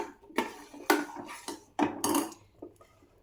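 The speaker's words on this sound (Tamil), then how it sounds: "இங்கிட்ட இதை அடி பிடிக்காமல் கிண்டி விட்டுக்கோங்க" A spoon scrapes and knocks against a pan while caramel kheer is stirred to keep it from catching on the bottom, giving a series of sharp metallic clinks and scrapes in an irregular rhythm, close and fairly quiet.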